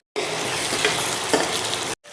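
Cumin seeds and garlic sizzling in hot oil while tempering dal, a loud, close crackling fry with faint stirring that starts suddenly and stops after under two seconds.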